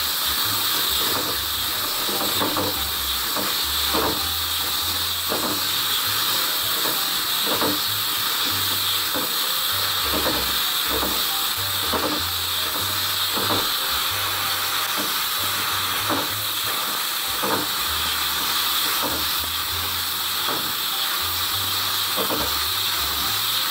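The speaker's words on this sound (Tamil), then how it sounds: "இந்த வெங்காயத்தை நல்லா வதக்கிக்கணும், உப்பு போட்டிருந்ததுனால சட்டில் வதங்கிட்டுடும்." Onions sauté with salt in a pan for sambhar. A loud, continuous hiss of frying carries on throughout, with faint scrapes and a low hum underneath.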